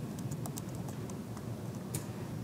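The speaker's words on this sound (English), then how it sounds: "I'm just typing quickly" Rapid typing on a computer keyboard, a steady run of quick, close key clicks with a few sharper taps, heard alone with no talking.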